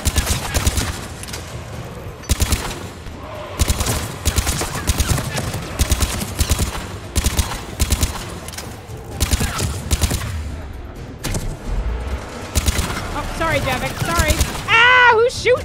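Gunfire aimed at the player in Mass Effect 3, rapid bursts of shots crackling throughout with a voice talking over them and warbling electronic tones near the end.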